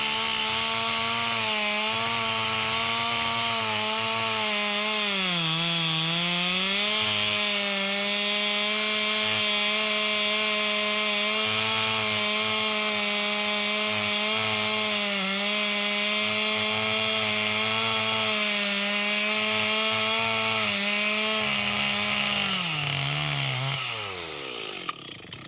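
Chainsaw cutting a notch into a standing tree, engine droning steadily at high revs for about twenty-five seconds with slight pitch dips as the chain bites wood, then winding down at the end, loud and close with no talk.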